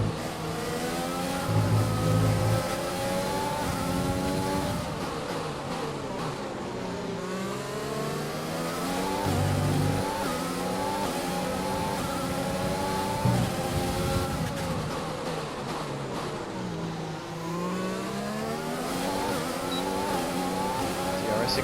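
F1 race car engines in the F1 2020 video game at Bahrain, revving and accelerating in repeated sweeping rises as cars battle closely, loud and sustained without speech.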